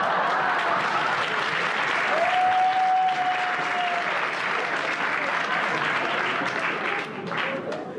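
A crowd at a live show breaks into dense, sustained applause that stays loud and even throughout, with a brief whistle or cheer rising above it early on.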